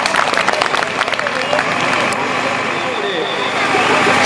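At a school annual function, an audience claps loudly in a dense burst that gradually thins into a softer, steady patter of applause.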